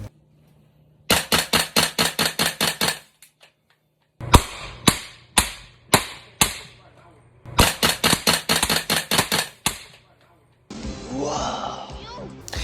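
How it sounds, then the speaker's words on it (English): A gas blowback airsoft rifle fires indoors in a house in rapid sharp cracking bursts, then a suppressed Silent Professional 300 Blackout rifle fires inside a warehouse in crisp bursts of close shots with short pauses between them. "This is him shooting his gas blowback airsoft rifle inside his house, and then here's some footage of us shooting the actual Silent Professional 300 blackout inside of a warehouse"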